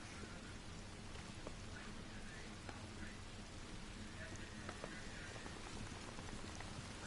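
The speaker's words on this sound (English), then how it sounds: "And it's still gonna be raining." Steady rain falls with a faint, continuous hiss of drops hitting surfaces and a few brief louder patters, heard at a distance and quite low in level.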